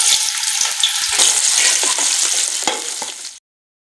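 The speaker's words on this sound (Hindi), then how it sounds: "प्याज हल्के से फ्राई होते हैं" Onion sizzling and frying in hot ghee for a 1 kg batch of matar pulao, a loud continuous crackling hiss with occasional stirring clinks, close up, cutting off abruptly near the end.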